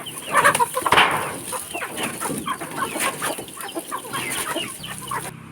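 Chickens cluck close by in a busy, overlapping stream of short calls, with a few louder squawks standing out against a steady background hiss.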